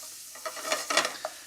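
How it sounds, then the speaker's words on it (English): Onions sweat in a pan for a Sicilian-style tomato, caper, garlic and olive oil dish, giving a faint sizzle with a few brief scraping stirs of a utensil against the pan. "We sweat onions until they're tender and they're translucent."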